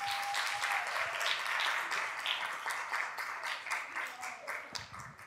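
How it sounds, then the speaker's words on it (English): A conference audience applauds for Stacey Ong, a steady wash of many hands clapping through the whole stretch, moderately loud and slowly thinning toward the end, with some murmuring underneath. "So can you please give her a big round of applause for Stacey?"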